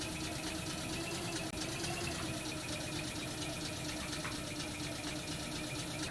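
A tractor engine in Farming Simulator 21 drones steadily while plowing a field, a continuous mid-pitched rumble with a faint vibrating hum that holds even and unbroken throughout.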